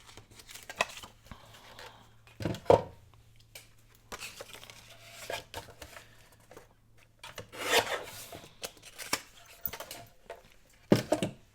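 Scissors snipping and rasping through a piece of patterned scrapbook paper for a stacked ticket tag, a few close, quiet cutting bursts with pauses between them and no talk.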